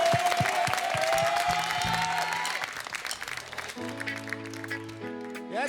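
A live audience applauds and cheers as the band takes the stage, with loud crowd clapping that fades as the band's music starts up partway through.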